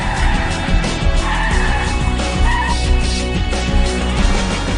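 A car skids through a side-slip panic braking test in a high-speed turn, with tires squealing loudly and steadily over a droning engine for several seconds.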